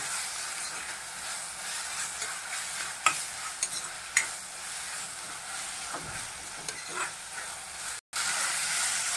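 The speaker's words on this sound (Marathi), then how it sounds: "आलं लसूण आणि कोथिंबीरची पेस्ट घालून घेऊया। ती पण पेस्ट अशी चांगली फ्राय करून घ्यायची।" A paste of ginger, garlic and coriander fries in a pan for a Bombay duck masala, giving a soft continuous sizzle and hiss with occasional spoon scrapes and taps, fairly quiet, and a brief dropout near the end.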